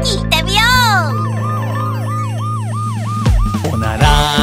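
A cartoon-style police car siren wails in a children's song about vehicles, a loud repeated rising-and-falling whoop over steady bouncy backing music with a brief pause near the end.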